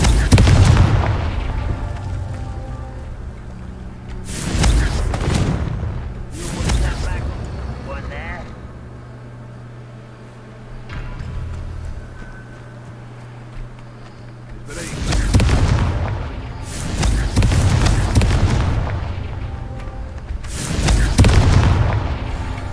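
Confringo fire spell blasts in the Hogwarts Legacy video game, with heavy booming explosions in two clusters, several in quick succession, loud and close over a rumbling game soundscape.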